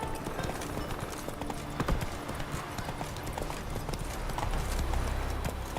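Horse hooves gallop steadily in The Witcher 3, a dense fast clip-clop carrying through the whole stretch over a busy ambient bed, close and fairly loud, with no speech.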